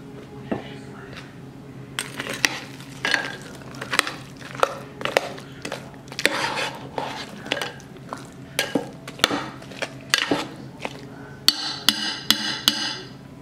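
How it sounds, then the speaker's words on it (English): Two cups of frozen broccoli stirred into chicken and rice in a pot, a series of sharp spoon knocks and clinks against the metal pot in an irregular rhythm, with a faster clattering burst near the end. "So now I'll add in my 2 cups of frozen broccoli. I'll mix it around."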